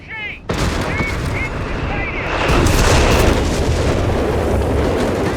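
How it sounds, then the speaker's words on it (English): Artillery and gunfire in a Company of Heroes 3 four-versus-four match, with a self-propelled artillery gun in action: a sharp opening blast, then a dense, continuous roar of battle noise, with a few short whistling tones early on. "Bishop self-propelled artillery!"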